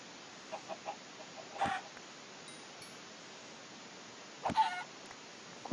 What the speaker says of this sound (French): j'entends un poulet.